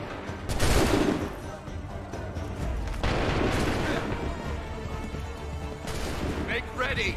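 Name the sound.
musket volley fire in Assassin's Creed 3 video game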